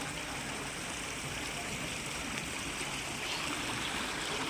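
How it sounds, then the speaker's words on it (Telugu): Water flowing steadily around an Anganwadi building flooded knee-deep, a continuous broadband rushing like a stream, loud and close throughout with no talk. "అరే దీనికి నీళ్ళు అక్కడి నుంచి వస్తానే మరి అది బాగా వస్తానే నీళ్ళు"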